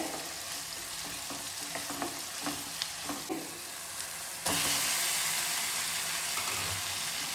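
A tomato base for chicken curry fries in a pan with salt added, a steady sizzle with spoon scrapes and taps, then a sudden louder, brighter hiss that holds to the end.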